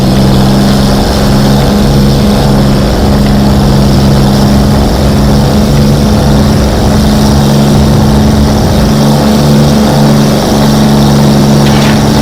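Hawker Hurricane fighter in flight under a low cloudbase, its piston engine and propeller droning loud and steady throughout, a constant close-up roar with steady low harmonic tones and no talk.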